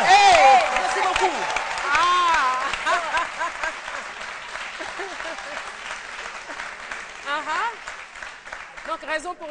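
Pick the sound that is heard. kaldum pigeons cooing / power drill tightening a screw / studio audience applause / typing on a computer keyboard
studio audience applause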